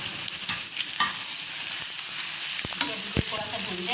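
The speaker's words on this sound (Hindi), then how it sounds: "अब इसमें हम अदरक लहसुन का पेस्ट शामिल करेंगे। हमने इसको भी भूनना है।" Ginger-garlic paste fries in hot oil with browned onions for spicy achari okra, giving a steady close sizzle broken by a few soft stirring scrapes and clicks; no voices.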